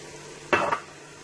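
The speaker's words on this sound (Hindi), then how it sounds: "इस टमाटर के मसाले में इस मेथी को 2 मिनट तक अच्छी तरह भून लें" Fenugreek is stirred and fried in a tomato masala for mash daal, a single brief burst of sizzling and spatula scraping, close and fairly loud, over a quiet background.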